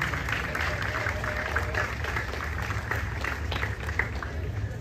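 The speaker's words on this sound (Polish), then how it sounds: "Wielkie brawa do zespołu." A crowd applauds a performing ensemble in an old town market square during a folk festival, with dense, sustained clapping mixed with crowd noise and some voices.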